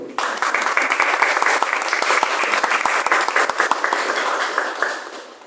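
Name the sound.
audience applause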